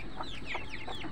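Chickens being raised for egg laying cluck in short repeated bursts, several calls over a second, moderately close against a steady background hum.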